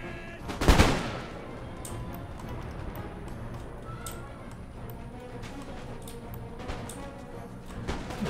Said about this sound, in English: Again, the musket lines have hit each other.